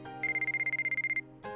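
A mobile phone ringtone in the visual novel game White Album 2, a rapid pulsing electronic trill that repeats about a dozen times in quick rhythm over a soft background music bed, then cuts off.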